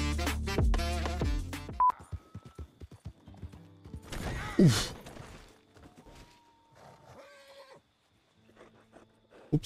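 Hooves of a horse in a video game clip-clop over a busy game soundscape with a whinny, chimes and tonal effects; the sounds come in bursts and then thin out.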